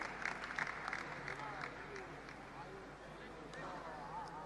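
Crowd applause at a squash match during the SDAT Squash World Cup at Express Avenue Mall, a steady patter of clapping heard at moderate distance with a commentator's voice talking over it.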